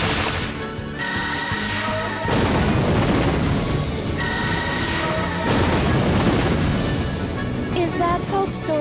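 Explosion spell in the Bravely Default game, booming crashes that erupt in two long bursts of rumbling blast noise between stretches of musical tones, loud and close.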